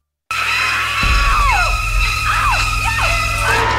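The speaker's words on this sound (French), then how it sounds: "c'était en effet la scène iconique de la douche dans Psychose" Excerpt of the shower scene from Psycho: a woman's repeated piercing screams over shrieking violin stabs and low strings, loud and close.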